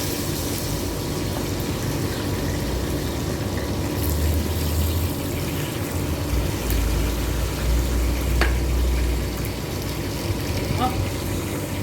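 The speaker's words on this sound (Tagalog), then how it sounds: "Iprito natin itong sili guys" Chili peppers frying in a pan give off a steady hiss and crackle of hot oil throughout, with a few sharper pops rising above the sizzle.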